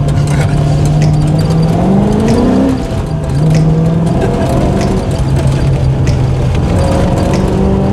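A modded Toyota Supra engine revs hard and holds near the rev limiter, a loud sustained drone that bends upward in pitch midway, with brief voices underneath.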